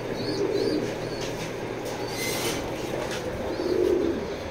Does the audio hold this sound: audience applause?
no